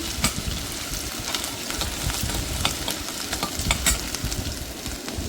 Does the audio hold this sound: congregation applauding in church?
no